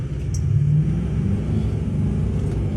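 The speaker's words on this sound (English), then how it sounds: "We're gonna do a boosted launch real quick." A Duramax diesel pickup makes a boosted launch on wet pavement, its engine revving in a loud, steady low rumble throughout, heard fairly close with no talking.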